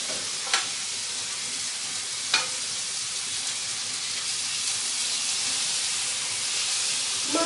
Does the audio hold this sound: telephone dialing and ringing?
no